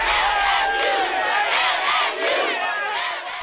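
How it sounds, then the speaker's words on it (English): Students and faculty at a college basketball game, Morgan State Bears versus Oklahoma Sooners in an NCAA tournament, cheer loudly, a dense sustained roar of crowd shouts and yells filling the whole stretch. "Students and faculty cheer loudly as the Morgan State Bears basketball team take on the Oklahoma Sooners in their first ever NCAA tournament"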